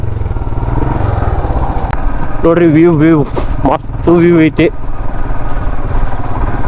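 A motorcycle runs steadily on an off-road track, its engine droning close and constant while people talk over it in short bursts.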